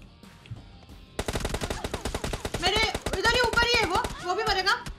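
Rapid automatic gunfire from the video game PUBG Mobile on the Miramar map rattles in a dense, fast burst of shots, with excited voices talking over it.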